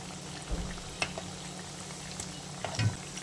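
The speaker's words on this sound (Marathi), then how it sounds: "मीडियम गॅसवर आपल्याला हे फ्राय करून घ्यायचे आहेत" Food fries in three spoons of oil over a medium gas flame, giving a steady close sizzle with faint bubbling and an occasional light scrape or stir.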